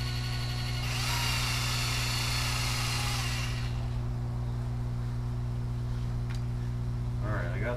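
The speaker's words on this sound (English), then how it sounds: "I'm gonna drill down here real quick," A power drill boring through a plexiglass sheet stacked on another sheet, a steady high whine that runs for about three seconds, then stops, over a constant low electrical hum.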